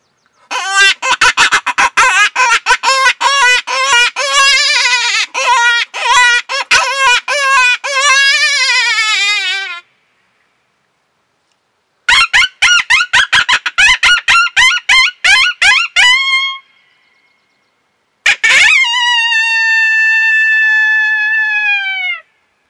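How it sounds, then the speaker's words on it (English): A FoxPro open-reed predator hand call produces rapid squealing, rising-and-falling cries in long bursts, pauses, then a final drawn-out wail; loud, close, no speech. "It's very versatile open reed call."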